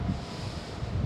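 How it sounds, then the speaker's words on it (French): Wind blows into a microphone outdoors on a warm morning in Miami, heard as a short, steady rumbling buffet at moderate level with low gusty thumps. "Je ne sais pas si vous entendez le vent dans mon micro, là."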